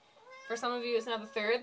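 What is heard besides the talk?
cat meowing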